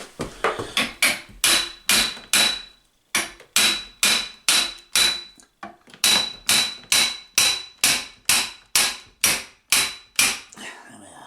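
Hammer taps self-aligning bearings onto a shaft in sharp metallic blows, usually in runs of four to six with short pauses between, loud and close throughout.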